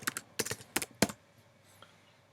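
A burst of computer keyboard typing, several quick clusters of sharp keystrokes close up, then the clicks stop and near silence follows.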